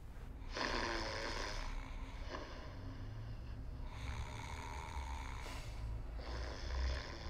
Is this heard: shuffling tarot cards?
no